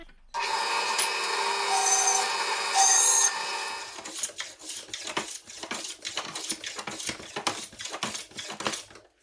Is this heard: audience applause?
no